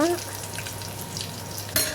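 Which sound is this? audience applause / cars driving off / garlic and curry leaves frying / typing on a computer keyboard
garlic and curry leaves frying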